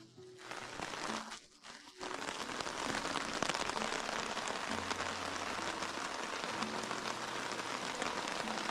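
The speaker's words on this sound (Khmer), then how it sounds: "មេឃកំពុងភ្លៀងនៅលើភ្នំទាំងពីរនោះភ្លៀងចិត្តមកដល់ទីនេះហើយ" Heavy rain pours on a deep forest near a lake between hills, a dense, steady hiss drumming on surfaces that dips briefly near the start and then holds loud and continuous.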